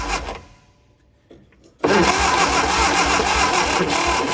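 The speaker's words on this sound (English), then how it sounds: "I'm going to crank it over" A barn-find Austin-Healey Sprite's engine cranks over loudly after a quiet pause, a steady churning, rhythmic starter-driven whir that continues without catching.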